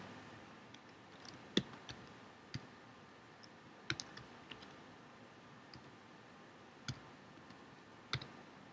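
Scattered key clicks come from typing a university name on a computer keyboard, sparse and fairly quiet over a low room hum, with no voices.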